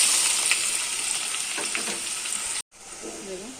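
Onion frying in hot oil for a homemade mutton curry, a steady close sizzle with faint stirring, breaking off sharply near the end before a quieter hiss returns.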